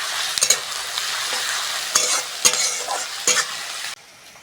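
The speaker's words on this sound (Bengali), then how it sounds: "পেঁয়াজ আর রসুনটা ভালো করে ভেজে নেব।" Onion and garlic frying in a pan give a steady, close sizzle, broken by several sharp scrapes and clatters as a spoon stirs them, before the sound cuts off abruptly near the end.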